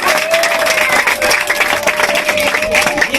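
Wedding guests clapping together in a lively crowd, loud and continuous, with cheering voices and a sustained tone running underneath throughout.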